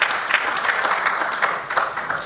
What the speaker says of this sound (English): They want to applaud.